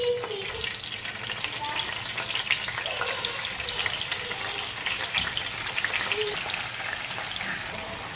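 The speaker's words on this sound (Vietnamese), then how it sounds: "Giờ mình bỏ mình chiên đậu hũ" Steady, crackling sizzle of tofu frying in a hot pan, loud and continuous throughout with faint clatter and a trickle of water in the background.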